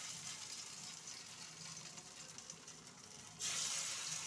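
Potato and lentil fritters fry in hot oil in a wok, a steady close sizzle that jumps louder and brighter near the end as more batter hits the oil.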